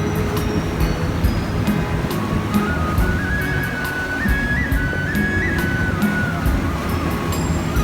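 An amphibious tour boat moves along the water on the Gold Coast, a constant engine hum and churning water rush, loud and unbroken, with a faint tonal whine rising partway through.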